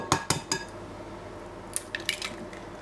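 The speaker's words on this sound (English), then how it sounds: "Work 1 egg well into the pastry before adding the next." Egg being beaten into choux pastry: a few wet, sticky slaps and squelches of the dough at the start, then a pause, then another cluster of soft wet smacks, close and fairly quiet.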